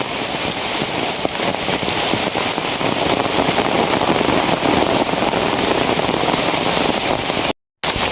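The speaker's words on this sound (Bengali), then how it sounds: "এখন আবার ঝিরি ঝিরি বৃষ্টি শুরু হয়েছে" Steady drizzling rain falls in a rural village setting, a dense continuous patter that stays even and close throughout, with no talk over it.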